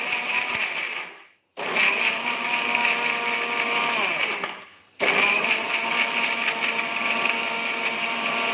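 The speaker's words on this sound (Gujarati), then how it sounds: "હવે આપણે મિક્સર જારમાં પીસી લેશું." A kitchen mixer grinder blitzes semolina in its jar for laddoos, a loud, steady whirring grind that stops twice briefly and restarts, giving three continuous bursts.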